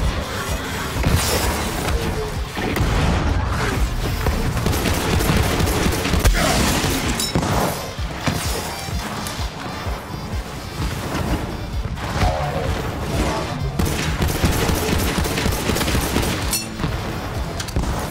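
Shotgun fire from the Borderlands 3 video game, a dense run of loud booming blasts and crashes packed together over a continuous game soundscape, with almost no pauses between shots.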